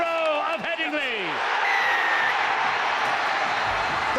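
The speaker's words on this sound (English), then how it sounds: "The crowd have gone absolutely balmy behind the post that Leeds are defending." Rugby league crowd behind the posts in a 2011 play-off semi-final between Warrington Wolves and Leeds Rhinos, a loud, sustained roar of cheering and clapping that swells after a brief stretch of someone talking at the start.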